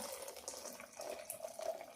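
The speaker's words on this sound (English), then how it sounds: "I'm gonna pour some warm water from my kettle." Warm water pours from a kettle into a cornmeal and coconut mixture, a soft, faint trickling splash that runs continuously for a couple of seconds in a quiet kitchen.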